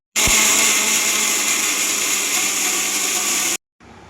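A mixer grinder grinds cut fresh coconut pieces, a loud, steady high-pitched whir that runs continuously for several seconds, then cuts off abruptly before a brief quieter restart.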